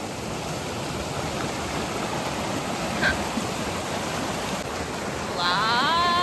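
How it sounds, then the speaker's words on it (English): Muddy water flows in a steady rushing wash across a forest trail, a continuous broadband roar close by, with a brief faint tone and a bird-like trill near the end. "A lot of water, a lot of muddy water."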